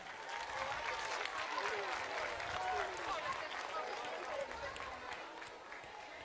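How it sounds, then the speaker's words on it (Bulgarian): A crowd applauding continuously at the BG Music Festival in Sandanski, dense clapping that swells slightly in the middle and tapers toward the end. "Още един път аплодисменти"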